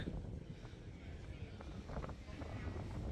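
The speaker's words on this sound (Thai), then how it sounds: "เฮ้ยลมแรง จัง เลย" Strong wind buffets the microphone at a rooftop viewpoint in Shibuya, Tokyo, a continuous low roaring gusty rumble with brief voices faintly underneath.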